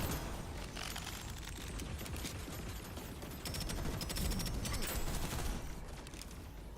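Rapid bursts of gunfire from the video game DeadZone Rogue crackle almost without pause, dense automatic fire with sharp repeated shots, fairly quiet overall and with no talking.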